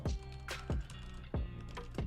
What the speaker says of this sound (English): I'm tippity typing